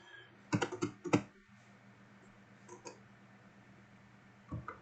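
A command being typed on a computer keyboard at a command prompt: a quick cluster of close key clicks, a few scattered taps, then another short burst, over a faint steady hum.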